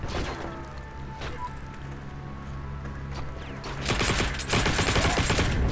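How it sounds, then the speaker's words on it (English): Rapid bursts of automatic gunfire in the World War II shooter Heroes & Generals, played as a paratrooper: a steady near stream of shots that grows louder and denser toward the end, with no talk over it. "I'm just shooting in the hope of hitting anything."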